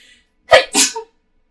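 A single loud sneeze up close, a sharp intake and burst in quick succession, then silence.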